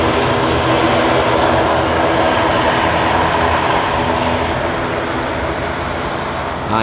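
A jet aircraft on the runway at London Heathrow produces a steady, loud, broadband engine roar that stays even throughout, with no break in the noise.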